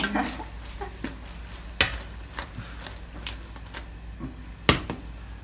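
Pasta being stirred in a pan with starchy boiling water added during a cooking class in Italy, giving soft wet sloshing and scattered light clinks of a utensil against the pan, with a sharper knock near the end.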